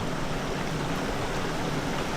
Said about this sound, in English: Looks to be a pretty awesome waterfall in front here.